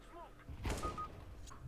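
A single muffled gunshot in Counter-Strike: Global Offensive booms once in a quiet scene, followed by a faint electronic tone.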